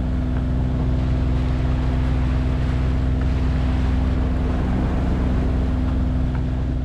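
A sailboat motors under engine across small quartering sea swells, its steady low droning hum running continuously and loud, with wind and water wash layered over it.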